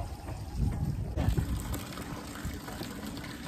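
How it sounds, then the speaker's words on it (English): Water is pumped out of a flooded dinghy in a steady, close gushing and splashing stream that holds at an even level throughout. "Pumping that water out."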